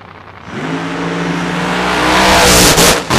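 Nitro funny car launching hard down the drag strip at Famoso Raceway at night, a loud, continuous roaring engine that builds in intensity over a few seconds and briefly dips near the end.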